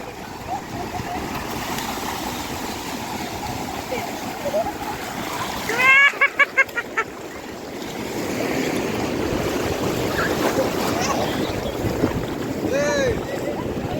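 Waves wash and rush in continuously with splashing water, while several voices talk nearby and a brief burst of shouting breaks through in the middle.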